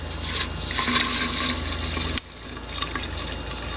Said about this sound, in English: So I'm pouring the second bottle in